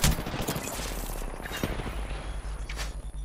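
Video game gunfire rattles in rapid, close bursts of shots, dense at the start and continuing in scattered volleys, fairly loud with no talking over it.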